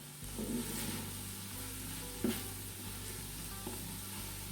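Onions sauteing on high in a Power Pressure Cooker XL: a steady, moderate sizzle runs throughout beneath a low appliance hum, with a couple of soft stirring knocks.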